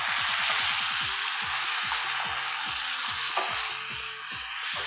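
Ajwa dates frying in ghee, with a steady bright sizzle throughout and repeated scraping strokes of a spoon stirring and pressing them in the pan, close and continuous with no talk.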